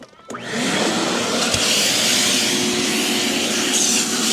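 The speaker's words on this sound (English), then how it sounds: "And vacuum it up just like that." Vacuum cleaner switches on inside a car and runs steadily as it sucks up pet hair, a loud, constant motor whine and airflow hiss with a brief clunk partway through.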